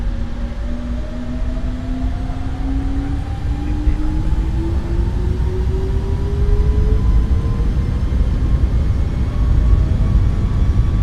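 Steady jet engine roar of a Boeing 737 MAX spooling up to takeoff thrust in a flight simulator, a continuous loud wash with a rising whine sweeping upward throughout, no voices over it.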